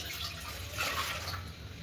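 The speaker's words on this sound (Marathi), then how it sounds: "एक वाटी पाणी आपण टाकून घेतले" A bowl of water is poured into rice flour for papad dough, giving a short, soft, splashy pour close by with nothing else around it.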